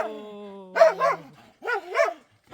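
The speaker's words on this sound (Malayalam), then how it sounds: "കുരയ്ക്കുന്ന കണ്ടോ ആരൊക്കെ കിടന്ന് കുരയ്ക്കുന്നതെന്ന്." Dogs at a rural home bark twice in quick doubled yelps after a drawn-out whining tone, close and loud, with pauses between.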